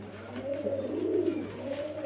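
Pigeons kept for sale coo in a low, soft, continuous murmur close by, with no talk over them.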